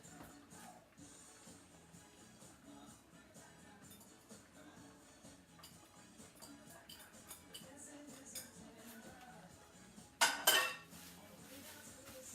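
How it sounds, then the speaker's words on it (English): A lid is set onto a cooking pot with a short, sharp metallic clank near the end, following quiet kitchen clatter and faint clinks. "and then we're going to put the lid on it."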